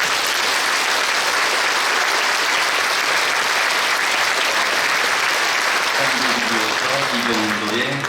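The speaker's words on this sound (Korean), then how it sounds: "박수 해주십시오." An audience fills a large church hall at a Korean Liberation Day 80th anniversary memorial service, clapping for introduced guests: dense, steady applause that holds for several seconds, then begins to fade as a voice comes in near the end.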